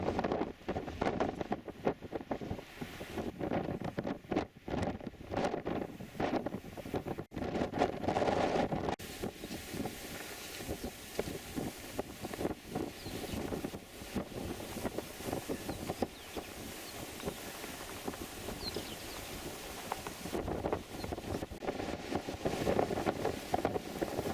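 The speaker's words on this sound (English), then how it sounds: "this is Loch Linnhe, and it's very windy" Gusty wind buffets the microphone in continuous roaring bursts on a beach by Loch Linnhe, a Scottish sea loch, with a faint wash of water in the background.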